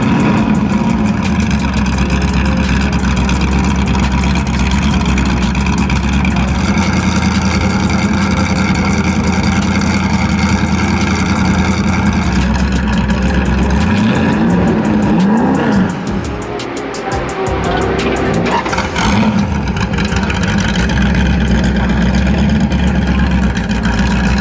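A Ford GT's supercharged 5.4-litre V8 with four valves per cylinder and four camshafts, rated 550 HP, drones loudly and steadily; its pitch shifts briefly before settling back to a continuous roar.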